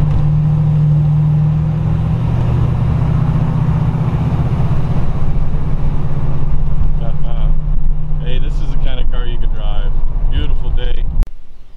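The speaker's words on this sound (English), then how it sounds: "I'm going to take a short little 1-2 shift up the road here, and then I'm coming back" A 1953 Buick Super convertible with its first-year V8 drives up a road, the engine holding a steady low rumble that builds as it pulls through a 1-2 gear shift, close and loud, before cutting off abruptly.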